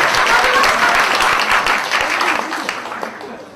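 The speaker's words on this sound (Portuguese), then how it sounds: "as salvas de palmas para o Juca Souza." Audience applause at a cultural evening at a Sesc venue in Rio de Janeiro, loud crisp clapping from a crowd that gradually tapers off over a few seconds.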